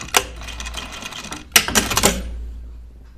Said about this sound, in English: And I'm sewing this coat.